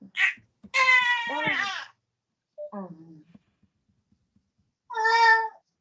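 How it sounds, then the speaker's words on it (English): A baby of about three months cries in short wailing bursts close by, separated by quiet pauses, with a voice briefly heard between cries. "Oh, your baby is crying."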